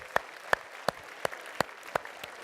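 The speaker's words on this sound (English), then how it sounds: "All right, give yourselves a big round of applause." An audience claps in slow unison, with six or seven crisp, evenly spaced claps ringing out at a steady rhythm over a quiet room.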